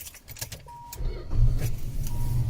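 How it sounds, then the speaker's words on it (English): Engine of a 1987 Chrysler Fifth Avenue cranking briefly and catching, then settling into a low, smooth idle heard from inside the quiet cabin, preceded by faint clicks and key movement. "Starts right up, idles beautifully."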